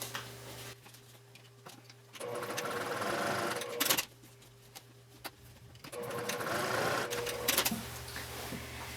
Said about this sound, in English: And I'm going to top stitch from the right side.